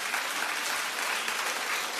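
Talk-show studio audience applauding steadily, a dense even wash of clapping that holds at one level throughout without voices.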